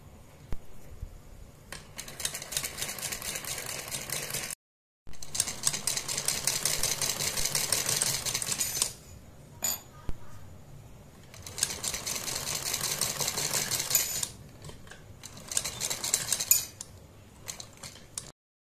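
An electric sewing machine stitches piping onto a sleeve in several long, steady whirring runs, separated by brief stops, with a faint idle hum between them.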